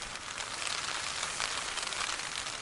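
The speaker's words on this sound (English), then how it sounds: "it's been raining most of today." Steady rain patters on a tarp shelter during a blustery winter wild camp on Dartmoor, a dense, even hiss that continues without a break and with no voices.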